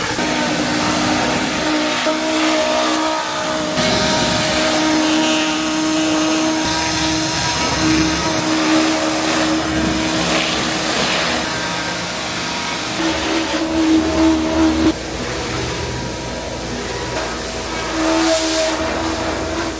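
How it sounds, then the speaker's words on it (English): A Giraffe Tools UltraFlow 1000H pressure washer runs continuously with a loud, steady motor drone and hissing spray, holding constant for the whole stretch with a brief dip partway through. "I have been super happy with this Giraffe Tool new pressure washer"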